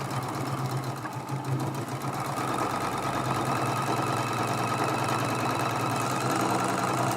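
A sewing machine runs steadily the whole time, stitching a seam on a Dresden Plate quilt block made from charm packs. Its whirring hum is constant and close, with no voices.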